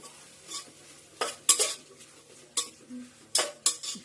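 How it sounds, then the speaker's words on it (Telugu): Potatoes and garam masala being stirred in a pot for biryani: a spoon scrapes and clinks against the metal pot in irregular strokes over a faint sizzle. "కొంచెం గరం మసాలా, ఇవన్నీ వేసి బాగా కలుపుకొని"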